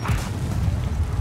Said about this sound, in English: this guy's throwing a grenade